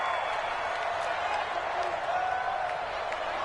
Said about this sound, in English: the crowd getting into it